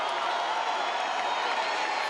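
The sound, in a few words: capacity crowd roaring on Toronto Wolfpack at rugby league match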